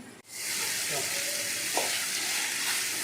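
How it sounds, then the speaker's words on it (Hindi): Chicken cooks in a pan with tomatoes whose juice has boiled off, giving a continuous bright sizzle and crackle of frying that stays even from start to finish, with no voices. "टमाटरों का पानी खुश्क हो गया और ये अच्छी तरह फ्राई हो गया है।"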